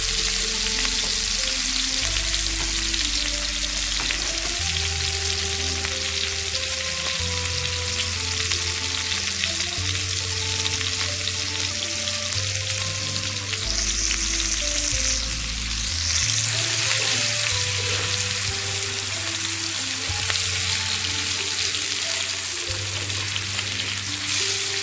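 Tandoori chicken frying in ghee on a tawa, a steady broadband sizzle running throughout with occasional soft stirring and scraping, close and fairly loud, with no voices.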